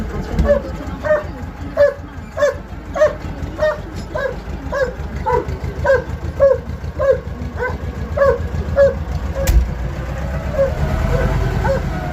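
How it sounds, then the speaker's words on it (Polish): A pair of German shepherd dogs barks repeatedly at a farm during snow clearing, producing a steady rhythm of sharp, fairly close barks with a few yips. Low engine rumble runs underneath throughout. "A tu moje psiny, kurde, szczekają"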